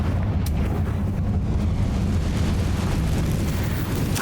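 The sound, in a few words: Confringo fire spell explosion from the video game Hogwarts Legacy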